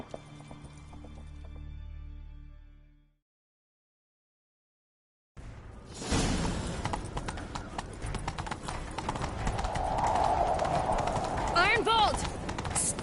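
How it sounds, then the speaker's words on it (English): Horse hooves galloping in the Witcher 3 video game, a steady rapid clip-clop that begins after a brief silent gap and runs loud and continuous, mixed with game sounds and a voice talking over it. "Grab a horse, we'll chase him down."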